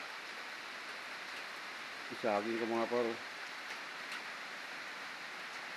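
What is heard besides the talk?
rain falling in rainy season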